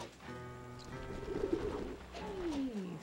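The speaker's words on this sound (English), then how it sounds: "Hey, scare the pigeons! Scare all the pigeons!" Pigeons coo in the video game Sly 2, soft repeated throaty coos close by over a low ambient game backdrop, with no talk.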